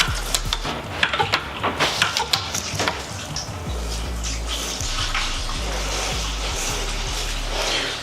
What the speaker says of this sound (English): I'm going to put the old siphon in there. And we're going to commence transferring.